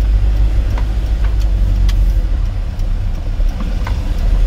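Steady low drone of a car engine heard from inside the cabin while driving, a constant rumble with faint clicks and no clear rev change, fairly loud and without talking.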